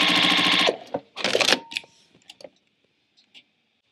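A sewing machine stitches quilt pieces onto a background square, a fast rattling run that stops, then a second short burst followed by a few faint clicks and taps, close up and alone.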